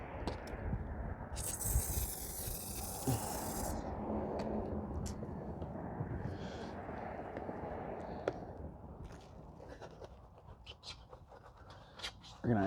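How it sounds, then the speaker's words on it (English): Non-acid wheel cleaner sprays onto the wheels of a 2015 Porsche Panamera GTS in one sharp hiss of about two and a half seconds, followed by quieter shuffling and faint handling sounds. "This is just some regular bulk non-acid wheel cleaner."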